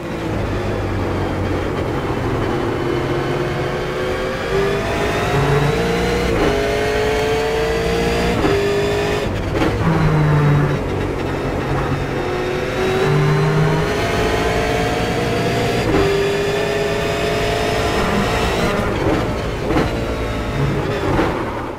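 Several V8 Supercars race together at Laguna Seca in iRacing, their loud engines droning and revving continuously, pitch climbing and dropping through gear changes as the cars run close in a pack.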